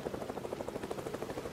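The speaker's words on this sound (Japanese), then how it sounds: "ヘリコプターの音だ。" A helicopter in the video game Project Zomboid drones with a steady, rapid rotor thump, fairly faint and distant, continuing evenly with no voices.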